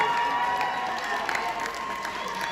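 Crowd at a Gambian pitch day clapping and cheering for a philanthropist, steady dense applause with some voices mixed in throughout.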